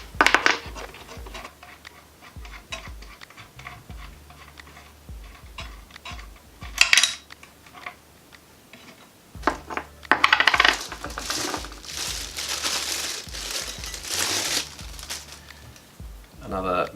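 A metal cutting blade is fitted onto the arbor of a cordless track saw, with metallic clinks, rattles and handling clatter coming in bursts, and a person talking over parts of it.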